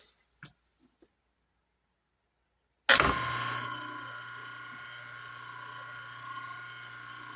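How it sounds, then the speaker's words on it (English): A 120 V electric motor switches on after a few faint clicks and quiet, then hums and whines steadily at moderate level, a constant tonal drone with a sharp start. "Motor turned on."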